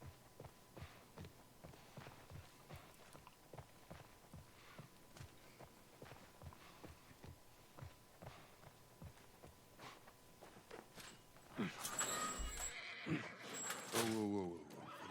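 Horse hooves clip-clop at a steady walking pace in The Last of Us video game, followed by a loud, close whinny near the end, with faint voices in the background.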